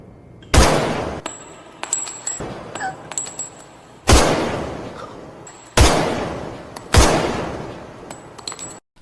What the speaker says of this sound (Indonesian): Di hari itu King Keo ditembak secara bertubi-tubi, tepat di bagian kepalanya.